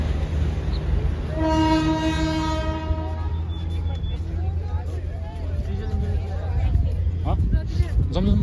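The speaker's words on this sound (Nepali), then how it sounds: "ये जा रहा है ट्रेन।" A train passes near a tourist spot in Darjeeling, India, sounding a loud sustained horn blast followed by a steady rumble of rolling wagons, with people talking over it.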